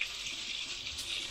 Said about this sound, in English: So, sieve, rice, in a sieve, under the tap, agitate.